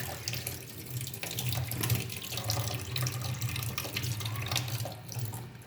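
Tap water gushes steadily over goat mutton being washed in a sink, a close, continuous splashing flow with no voices.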